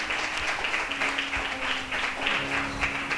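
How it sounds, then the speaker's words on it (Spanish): A church congregation claps and applauds together, a dense, steady wash of handclaps lasting several seconds at moderate volume. "Denle un aplauso fuerte a nuestro Padre Celestial"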